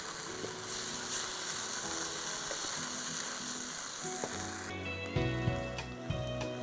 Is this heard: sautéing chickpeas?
yes